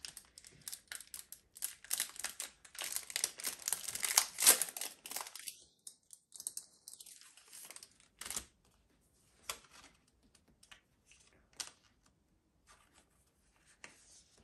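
A Pokémon TCG Brilliant Stars booster pack wrapper being torn open and handled, with continuous close crinkling of foil in the first half, then sparser soft rustles and taps, no speech.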